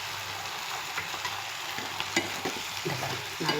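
Spinach greens and tomato sautéing in a pan, a continuous low sizzle with scattered scraping and clicking of a stirring spoon, close and even throughout.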